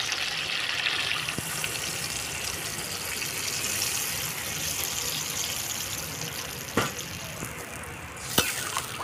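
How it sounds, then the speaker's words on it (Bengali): Water is poured into a simmering Bata fish curry cooked with vegetables, a steady gushing wash with a couple of small clunks near the end. "জল দিয়ে দেবো।"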